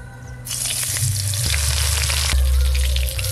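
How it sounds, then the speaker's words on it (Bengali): Spiced brinjal pieces dropped into hot mustard oil in a kadai set off a loud, steady sizzle that swells suddenly and holds, with a low rumble beneath, close and without talk. "তেল গরম হয়ে গেছে, বেগুনগুলো ভালো করে ভেজে নেব।"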